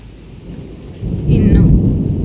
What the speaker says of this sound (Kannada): ಜೋರು ಗುಡುಗು ಬರ್ತಾ ಇದೆ.